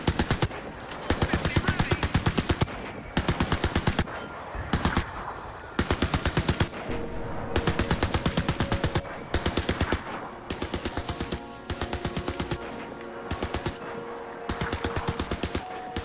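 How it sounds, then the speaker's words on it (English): Automatic gunfire in Crysis 3, loud rapid bursts of a few seconds each separated by short pauses, repeating steadily throughout with no clear talk. "Let's start shooting everybody around it."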